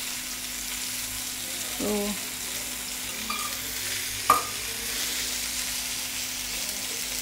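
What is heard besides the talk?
lady fish frying in oil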